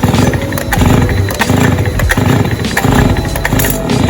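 A small engine chugs and putters loudly and steadily, with a rough, uneven rhythm and occasional sharper bursts, close by.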